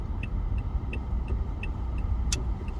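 A truck engine idles nearby in a low, steady rumble, with a faint regular ticking on top and one brief sharp click near the end.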